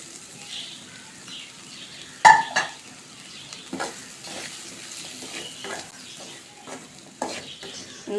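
Semolina (rava) being stirred and roasted in a pan, with soft, quiet scraping strokes and a few sharper clinks of the spoon against the metal at irregular intervals.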